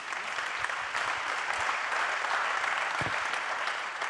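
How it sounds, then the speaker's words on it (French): An audience at a business launch event applauds steadily, a dense wash of clapping from many hands that holds at an even level throughout. "allez-y, applaudissements si vous le souhaitez"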